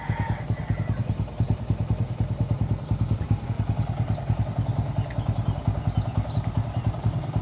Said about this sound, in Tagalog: Yun, okay na guys, yun na yung sa ating motor.